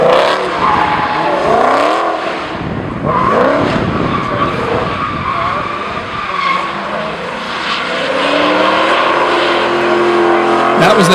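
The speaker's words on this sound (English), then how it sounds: "That was the Hellcat Thrill Ride from the Chrysler Nationals at Carlisle about 3 years ago." Hellcat muscle car on a thrill ride at the Chrysler Nationals in Carlisle, its engine revving and rising and falling in pitch amid loud tire squeals and skids, with voices heard among the roar.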